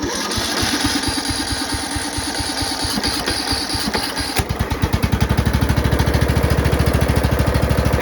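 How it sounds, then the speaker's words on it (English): A racing lawn mower engine built from scratch sputters as it is started, then settles into a steady, loud, rhythmic idle with close, regular firing pulses. "So once it's started, you can let go of that. Let's take it off choke. So there's our idle."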